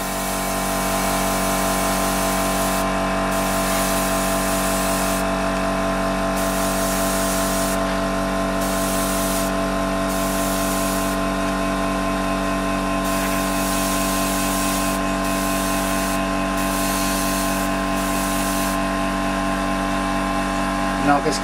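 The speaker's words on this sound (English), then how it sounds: "Sorry for the compressor, guys." Air compressor running for airbrush painting, a loud steady mechanical hum with a pulsing rumble that persists throughout, while a high hiss switches on and off in short bursts as paint is sprayed.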